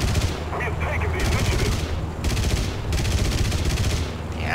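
Rapid machine gun bursts from a tank in the War Thunder video game rattle loudly in long dense volleys with brief pauses between them, heavy gunfire filling the whole stretch close up.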